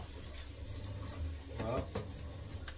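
Food sautés in a pan, a soft sizzle with a few stirring scrapes and light clatter, fairly quiet, as a person talks over it.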